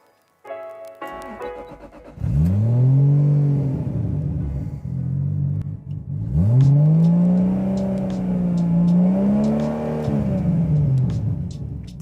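An old Toyota's engine starts and revs loudly twice, pitch climbing and falling in long sweeps, then holding a steady drone under load before easing off.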